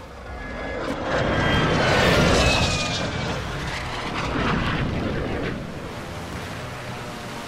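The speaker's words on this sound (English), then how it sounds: "Hostile UAV overhead." In Warzone 2.0, a hostile UAV drone passes overhead with a broad, droning engine roar that swells, fades a little, then swells again as it crosses, with no voices.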